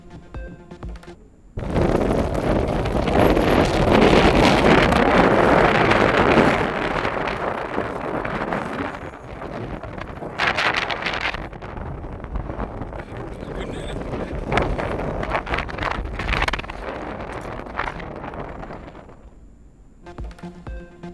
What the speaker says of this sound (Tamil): கோவையில் வீசிய சூறைக்காற்றில் இளைஞர் சிக்கி திணறிய காட்சிகள் வெளியானது.